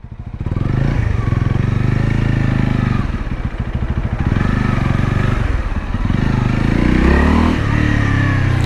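A Honda CL250 250cc motorcycle engine runs loud and close, a steady throbbing rumble that rises and falls slightly as it is revved, with light mechanical clatter over it.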